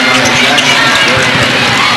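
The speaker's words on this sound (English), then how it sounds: "Cheering their teams on." Dense, steady roar of high school fans cheering in a packed gym at the 2012 MSHSAA Boys Class 2 basketball championship, Billings vs Salisbury, with voices mixed into the crowd noise throughout.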